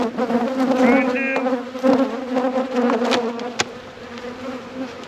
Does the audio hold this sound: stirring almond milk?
no